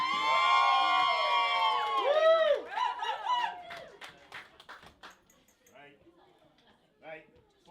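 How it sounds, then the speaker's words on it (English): Wedding guests at a hotel reception cheer and clap for the newly married couple: whoops and shouts, some high and childlike, ring out first, then scattered clapping and a few calls trail off into quieter moments. "give a warm round of applause for your new Mr."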